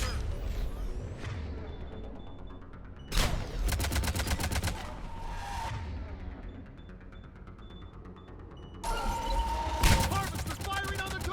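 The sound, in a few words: Harvester firing and gunfire in video game Mass Effect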